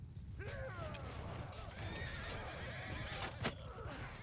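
A horse in a medieval battle video game gives a loud, wavering whinny that rises and falls over several seconds, with faint hoof clatter and game effects in the background.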